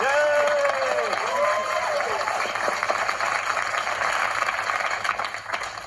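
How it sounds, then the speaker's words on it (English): Studio audience on a television music quiz show breaks into sustained applause and cheering, loud and close, rolling steadily for several seconds with a host's voice ringing out over it at the start. "Ladies and gentlemen, a round of applause"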